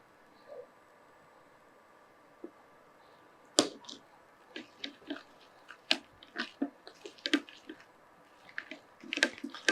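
Jam pudding batter made with maida flour is mixed by hand, giving soft wet squelches and sticky clicks that start sparse and grow busier and more rhythmic, close and fairly quiet.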